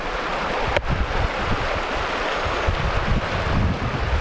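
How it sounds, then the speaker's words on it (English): A fast-moving Rocky Mountain river near Estes Park, Colorado rushes in a loud, steady, unbroken roar close by, with a brief knock partway through and no talking. "You'll notice the current here is pretty fast moving."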